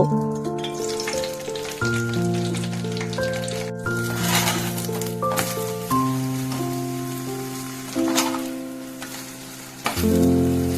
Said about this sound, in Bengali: তেলটা একটু গরম হয়ে গেলে এবার পরোটাগুলো একটা একটা করে আমি ভেজে নেব।